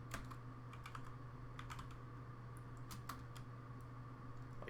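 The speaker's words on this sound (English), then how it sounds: "So I'm going to type this in." Rapid keystrokes clatter on a computer keyboard in irregular bursts of sharp clicks, close and fairly quiet over a steady low electrical hum, while commands are entered in an Ubuntu virtual machine. No one speaks.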